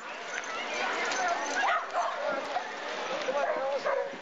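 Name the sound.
dogs barking at a running race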